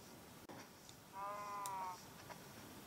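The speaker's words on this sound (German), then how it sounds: "Irgendwo mäht hier noch ein drittes." A sheep bleats once in the video game Minecraft, a short wavering cry rising over faint background ambience at moderate volume.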